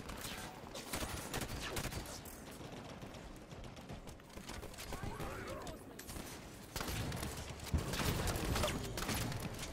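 Gunfire crackles in Halo 5: Guardians as enemies and turrets are shot, with repeated bursts and shots over a continuous busy battle din and some talk mixed in.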